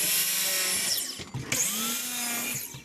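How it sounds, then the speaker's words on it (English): A miter saw squares up MDF boards for doorway side pieces, giving a loud, steady power-tool whine with a brief dip partway through before the cut resumes, alone with no talk. "I'll square them up on the miter saw first."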